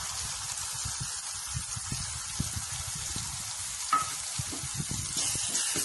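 Onion and sesame paste fry in a pan with a steady soft sizzle, broken by repeated light scraping strokes of stirring, close and alone.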